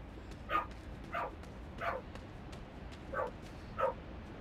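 A dog barks five times at a steady, spaced pace in the dark puzzle game Inside, each bark sharp and fairly close against a quiet background hum.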